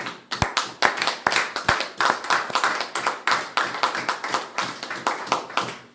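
A church congregation claps and applauds in praise of the Lord, with dense, rhythmic hand claps, fairly close and sustained, swelling in regular bursts with faint voices mixed in.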